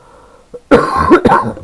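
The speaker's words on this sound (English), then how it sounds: "For some reason I have quite the cough this morning." A single harsh cough bursts out close by, preceded by a brief throat sound, then trails into a rough second cough.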